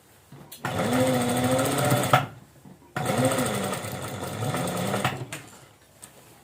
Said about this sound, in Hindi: फिर हमने ऐसे करके सीधी इसके ऊपर सिलाई लगानी है